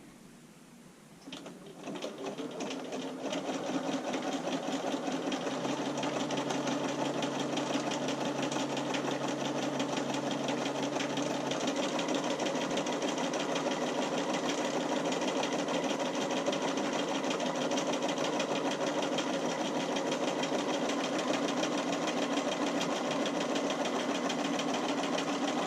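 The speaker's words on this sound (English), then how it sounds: "you just want that zigzag to bite both pieces of fabric as you move along" A sewing machine zigzag-stitches two butted foam bra cups together, starting up after a moment and then running as a steady, close mechanical whir and rapid needle clatter without pause or speech.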